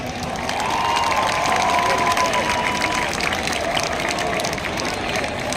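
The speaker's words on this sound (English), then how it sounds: "Can we have a huge round of applause for sir?" An audience at a college sports and cultural fest applauds and cheers loudly, a continuous crowd roar with clapping and shouts that holds steady for several seconds.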